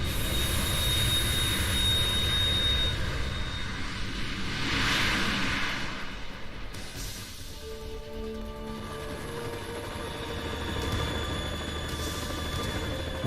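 Harrier jet engine in Metal Gear Solid 2 roaring loudly and steadily throughout, with a broad rushing swell near the middle and a slight change in tone later on.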